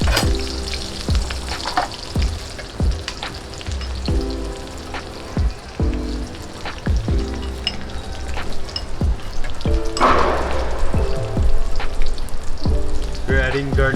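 Two green chilies frying in oil in a pan for Bangladeshi pigeon curry: a loud, steady crackling sizzle with popping bursts and clanks of the utensil, rising to a more intense spatter near the end.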